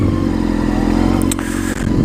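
A Honda CBR600 F4i sport motorcycle with about 32,000 miles runs at a steady loud idle up close, with a brief dip and some mechanical clatter near the end.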